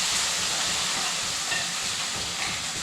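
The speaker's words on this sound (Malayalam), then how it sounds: "അരച്ച് വെച്ചിരിക്കുന്ന അരപ്പ് ഒഴിച്ചു കൊടുക്കുക" Ground coconut paste poured into a pan of fried onions for a chammanthi curry sets off a loud, continuous, close hissing sizzle that holds steady throughout.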